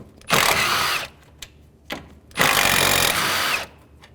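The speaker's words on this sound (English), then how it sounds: "I'm going to take these two bolts out" Power tool with a 10mm socket spins out bolts while a radiator is being replaced on a 2011–2014 Chrysler 200: two long, loud whirring bursts with short clicks and taps between them.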